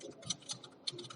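Keyboard keys being tapped while HTML code is typed, a few quick clustered clicks and taps close by, moderately quiet, with no voice over them.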